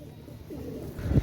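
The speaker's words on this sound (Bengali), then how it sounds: "একজোড়া সাকি রেডি কবুতর" A pair of Saki pigeons cooing, a low soft coo rising and then a louder, deeper throaty call at the end, close and brief, with no talk over it.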